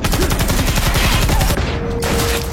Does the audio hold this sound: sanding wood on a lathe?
no